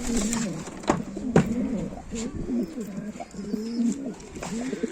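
Pigeons coo in low, repeated throaty phrases close by in a coop, with a few sharp knocks and rustles in the background.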